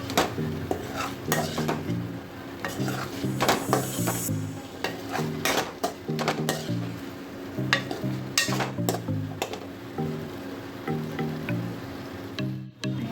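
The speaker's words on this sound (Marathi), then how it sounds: "बोंबील टाकल्यानंतर परत छान असं हे मिक्स करा." Bombil fish being stirred in a frying pan for bombil batata rasbhaji, a spoon repeatedly scraping and clanking against the metal pan in uneven rhythm over a low background sizzle, close and clear.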